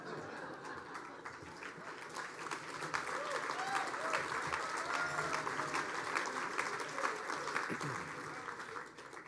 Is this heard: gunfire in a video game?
no